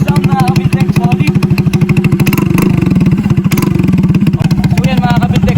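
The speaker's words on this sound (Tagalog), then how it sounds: "Ngayon naman pakinggan natin yung tunog ng elbow lang." Motorcycle with its SC Project muffler removed, running on just the exhaust elbow pipe, revs up and down in loud, close, rapid pulsing bursts with a brief rattly clatter between throttle blips.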